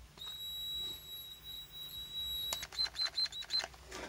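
A 555 timer PWM circuit gives off a faint, steady high whistling tone that later breaks into a string of short chirping pulses against quiet background hiss.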